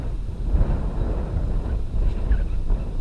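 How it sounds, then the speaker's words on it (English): Steady wind buffeting a microphone outdoors during metal detecting with a Tesoro Sand Shark, a continuous low rumbling roar with gusty swells, no talking. "It's very windy, so I hope the wind isn't making too much noise for you guys."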